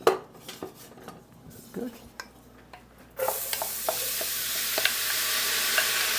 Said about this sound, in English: So I'm going to saute my onions.